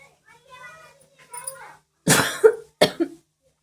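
A woman with a cold coughs twice, harsh and close, after a moment of soft talking.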